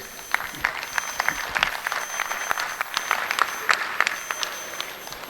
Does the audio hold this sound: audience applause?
yes